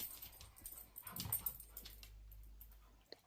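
A dog whimpers and pants softly in a living room, with faint breathy huffs and small whines at low volume and no talking.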